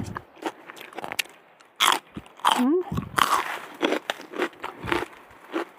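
Fresh crunchy snow peas picked from a home garden are bitten and chewed up close, several sharp crisp snaps followed by wet crunching in an irregular rhythm.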